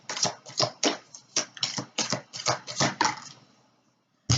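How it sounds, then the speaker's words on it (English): Tarot cards from the court cards of the Minor Arcana being shuffled by hand, a run of about a dozen crisp riffling bursts in quick rhythm, close and fairly loud, then a pause and one last burst. "Just give them a good shuffle."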